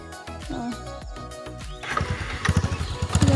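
A motorcycle engine turns over near the India–Bangladesh border, first uneven cranking and sputters, then catching into a rapid, rising putter of firing pulses that grows louder toward the end.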